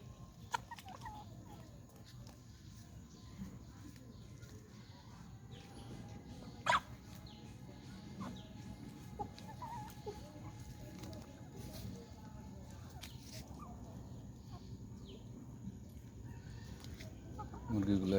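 Free-range laying hens cluck softly while pecking at ripe papaya and vegetables, a steady low murmur of birds close by with a few sharper calls and a possible distant crow.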